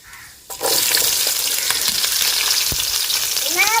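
Onions drop into hot oil with bay leaf and shahjeera for egg biryani, setting off a sudden loud sizzle that holds steady and close, with faint stirring scrapes and a brief squeaky chirp near the end.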